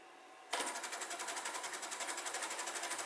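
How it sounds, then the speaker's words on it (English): A homemade Lego motor starts abruptly and drives a blower through gear reduction, with a fast, even rattling buzz that pulses rapidly like a sewing machine, loud and close. "We'll add a little gear reduction to make sure the motor can run it."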